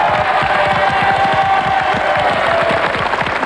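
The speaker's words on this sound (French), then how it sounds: "Applaudissements pour l'équipe blanche." A studio audience at a 1996 French TV game show applauds and cheers for the white team, a dense, loud, continuous wash of clapping and crowd noise with scattered shouts throughout.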